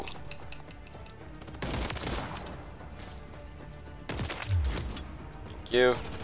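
Gunfire in Call of Duty MW3 comes in bursts of rapid automatic shots and single cracks over game ambience, with a sharper blast near the end, moderately loud.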